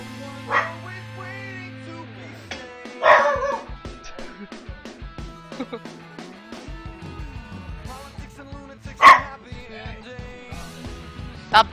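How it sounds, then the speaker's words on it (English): A dog named Oliver barks in a few sharp, separated bursts over a quiet background, one loud bark standing out near the end, with no one talking. "My dog's barking."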